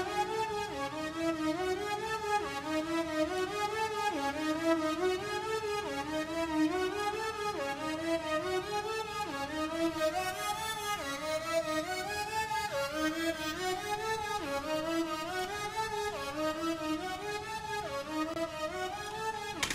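A synth sawtooth-wave patch plays a repeating sequence of buzzy notes that slide downward in steady cycles, continuous and moderately loud with no voices.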